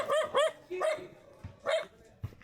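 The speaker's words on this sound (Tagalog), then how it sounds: "Yan ang babangis ng aso dito, dapat ganyan." Farm dogs bark several times in a loose cluster, a few sharp yelps close by followed by quieter, more distant barks, with no talking.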